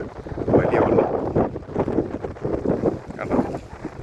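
Wind buffets the microphone on a breakwater at the Thottappally landing centre as a fishing boat approaches from a distance, a low rumbling drone rising and falling in gusts.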